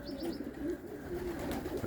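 Soft, repeated cooing of a pigeon in a pigeon loft, low rolling calls close by in an echoing space, with faint chirps in the background.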